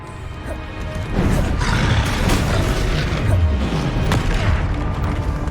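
Spell-combat explosions from Hogwarts Legacy, including a Confringo blast: loud, continuous booms and crashes that layer together from about one second in, with no spoken voice.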